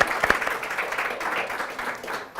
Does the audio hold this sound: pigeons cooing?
no